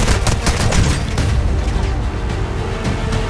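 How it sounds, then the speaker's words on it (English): A light machine gun fires in the video game Warzone, firing sustained rapid bursts of loud, close gunfire. The dense rattling shots have booming low thumps underneath. "Dude, this LMG is so good."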